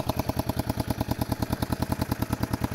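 A 1973 Honda CB450 motorcycle engine idles close by, a fast even chain of exhaust pulses thumping at a steady rhythm with no other sound.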